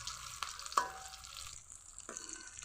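Dhoka, spiced lentil cakes made with cauliflower, frying in oil in a kadai, with a soft sizzle broken by a few sharp clicks and scrapes as pieces are turned, fairly quiet and without talk.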